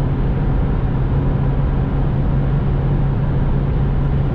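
A Ferrari 458 supercar with its V8 engine cruises on a motorway, giving a loud, steady, close drone of engine and road noise with a constant low hum throughout and no voices.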